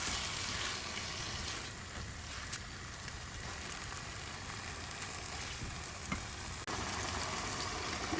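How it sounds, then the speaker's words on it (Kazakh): Onions, minced meat and vegetables fry together as a samsa filling, producing a soft, continuous sizzle with a few scattered clicks from stirring in the pan. "Енді жаңағы қуырып алған көкөністерімді де бірсынтай кішкене қуырып алатын боламын."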